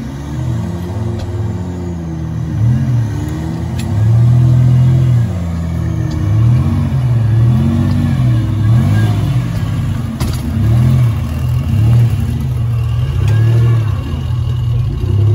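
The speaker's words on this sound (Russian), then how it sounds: "Едет Toyota." Toyota off-road vehicle driving on a rough off-road course: a loud, close engine rumble that rises and falls with repeated revving surges, and voices are faintly audible under the engine.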